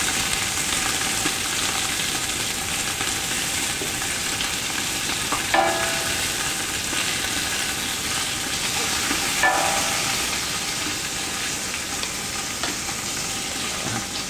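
Beef frying in a pot for vegetable soup, with a steady loud grease sizzle throughout and a couple of sharper pops breaking through, no voices.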